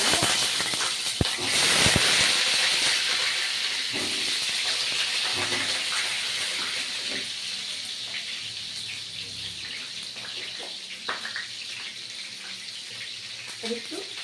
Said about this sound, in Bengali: দেখুন আমি পটলগুলো ছেড়ে দিলাম।